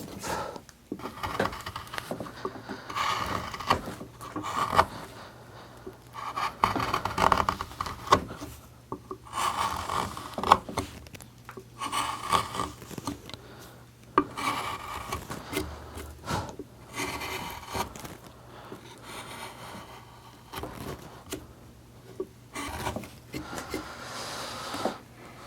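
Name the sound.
hand carving wood with chisel cuts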